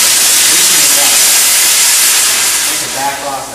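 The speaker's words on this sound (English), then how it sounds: "I'd be able to begin to apply the steam to it" A steam cleaner hisses loudly and steadily against a surface in a cafe eating area, a continuous close spray of steam that eases slightly toward the end.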